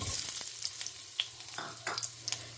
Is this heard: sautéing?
yes